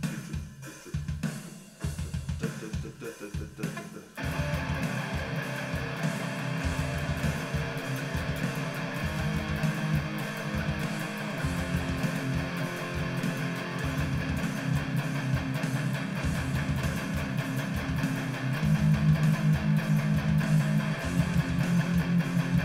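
A distorted metalcore electric guitar chugs triplets with all downstrokes, three notes per beat, in a dense, loud, driving riff that starts after a few seconds of sparser picking and continues without talk.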